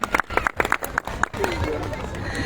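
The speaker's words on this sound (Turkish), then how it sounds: "Ve orkestrayı bir güçlü alkış istiyorum kuşçu organizasyona" At an outdoor picnic festival, a crowd claps for the orchestra, first as distinct sharp claps over talk, then merging into a steady sustained wash of applause and crowd noise.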